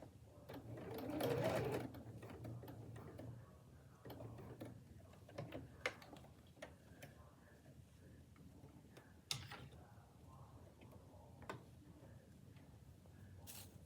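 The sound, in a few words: sewing machine stitching across an apron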